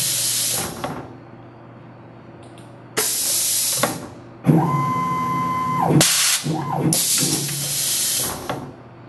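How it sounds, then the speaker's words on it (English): A Tormach automatic tool changer loads a tool into a milling machine spindle: sharp pneumatic air blasts hiss in bursts, followed by a motor whirring up and down and more bursts of air, close and loud, with no talking. "Now for a trial run. I'll go ahead and put a tool in the spindle."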